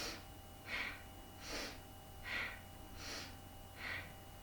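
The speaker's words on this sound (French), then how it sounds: "c'est une respiration qui est puissante, pas forcément rapide, mais puissante." Powerful belly breathing in a Kundalini yoga exercise, with six strong, unhurried breaths about every 0.8 seconds, each a close, airy rush with slight nasal whistle, alone over a low background hum.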